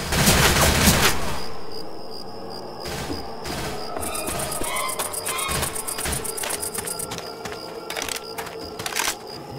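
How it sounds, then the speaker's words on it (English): Video game gunfire from the Left 4 Dead 2 zombie shooter: bursts of rapid shots and crackling fusillades, loud at the start and continuing in busy volleys. "God damn it, stop shooting!"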